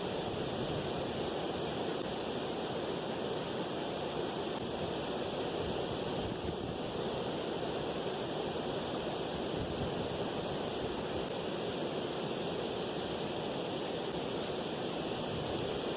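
Torrent of water pouring over a weir in a city park stream during a salmon run, a steady, loud broadband roar that continues unbroken throughout with no voices.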